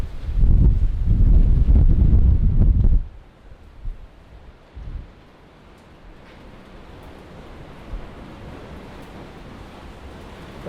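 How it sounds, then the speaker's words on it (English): Strong wind gusts at an abandoned golf resort during a storm, loud roaring buffeting against the microphone for about three seconds, then easing to a steady lighter rush with occasional bumps. "Ridiculously windy up here."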